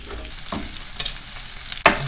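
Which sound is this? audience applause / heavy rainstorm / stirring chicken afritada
stirring chicken afritada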